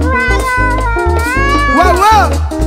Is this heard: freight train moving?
no